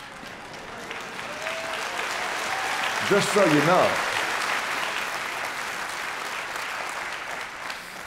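A church congregation claps during a sermon, a broad wash of applause that swells briefly in the middle while a preacher's voice carries over it.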